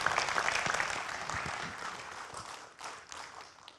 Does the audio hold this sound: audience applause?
yes